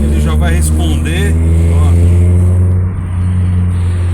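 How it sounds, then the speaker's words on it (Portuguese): A Chevrolet Kadett SLE in third gear at about 40 km/h takes a light throttle input, giving a steady, loud low engine drone that rises slightly, with someone talking over it throughout. "Se eu der uma cutucadinha aqui, ele já vai responder"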